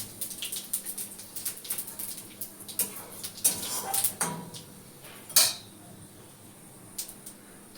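Panch phoron spices dropped into hot oil on a lowered gas flame crackle and spit in a scattered burst of sharp pops, mixed with a few clinks of a utensil against the pan, with no talking.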